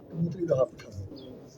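A pigeon coos close by, a brief low throaty warble that rises once and then settles, with a soft murmur in the background, at a pigeon keeper's place in Gawalmandi.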